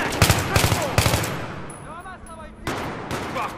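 Rapid bursts of automatic gunfire rattle close and loud in a Battlefield 3 co-op firefight, with a brief lull and then more shots, and voices shouting in the game.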